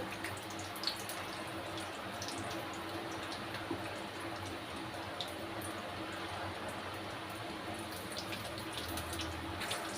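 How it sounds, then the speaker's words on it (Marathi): Cashew and almond pieces frying in a hot kadhai, a faint steady sizzle and fine crackle that runs evenly throughout with occasional tiny pops. "आपली कढई तापलेली आहे आणि आपण त्यामध्ये काजू बदामचे जे तुकडे करून ठेवले त्या टाकून घेणार आहोत"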